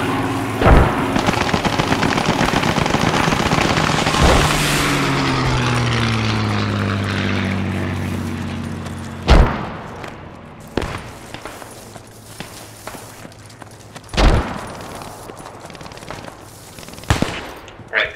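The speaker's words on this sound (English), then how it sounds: "There's a machine gunner in the second floor on the FL" Machine gun fire in the WWII shooter Post Scriptum, a Bren gun heard as a long roaring burst early on, then scattered sharp distant shots over a low droning propeller aircraft passing overhead.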